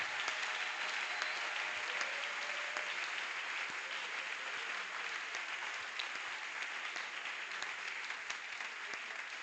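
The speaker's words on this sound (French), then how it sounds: "Est-ce qu'on peut acclamer très, très, très, très fort?" A church congregation at a community worship service applauds loudly and steadily, dense clapping filling the space for the whole stretch with faint cheering underneath.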